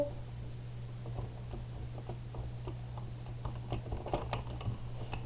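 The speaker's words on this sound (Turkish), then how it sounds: "klavyenin sesleri geliyor olabilir" Soft, quiet clicking of computer keys, irregular taps in bursts over a steady low hum.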